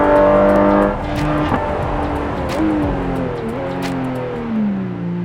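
A 2022 Porsche Cayman GT4 RS in Assetto Corsa at the Nordschleife, engine howling loud and close, dropping pitch through gear changes and rising again as it accelerates, with faint tire noise.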